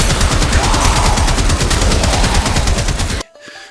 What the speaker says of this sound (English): The Trumner and its prime variant is a slow-firing, heavy-hitting automatic rifle with a large magazine capacity.